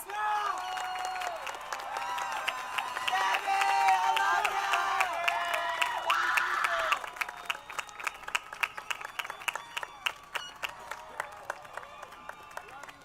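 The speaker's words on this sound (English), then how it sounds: "give that class of 2025 another big round of applause" High school graduation crowd in a large venue roars with cheering, whoops and dense applause that drop to scattered, crisp individual claps trailing off.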